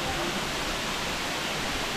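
Balagbag Falls in Real, Quezon pours in a dense, continuous roar of falling water, loud and even with no breaks.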